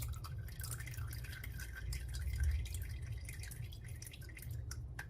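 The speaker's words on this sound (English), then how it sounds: "The best way to judge when it goes empty is to watch and listen to the outlet stream." A water stream drains from the outlet hole of a tank in a steady, continuous splash and trickle with faint dripping, moderately quiet, heard alone without talk.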